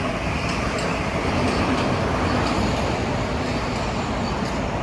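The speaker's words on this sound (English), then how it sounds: "here we have an express train" A Metro-North express train passing Fleetwood station, a broad steady rushing roar with faint rhythmic wheel clatter, loud and continuous throughout.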